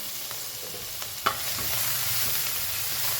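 Asafoetida, crushed garlic and chili frying in hot oil, a close continuous sizzle with a sharp clatter of stirring near the middle, then steady crackle, no voices.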